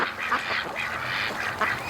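Ducks gathered around a dock quack continuously in a close, busy chorus, overlapping calls rising and falling with no voices present.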